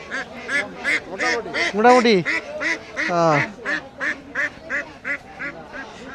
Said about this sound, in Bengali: এই যে এখানে দেশি হাঁস আছে